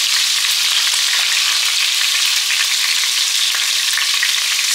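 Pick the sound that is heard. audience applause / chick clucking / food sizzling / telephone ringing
food sizzling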